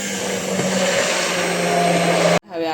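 An electric hand blender whirs loudly and steadily through cooked tuvar dal, then cuts off abruptly as a voice starts speaking.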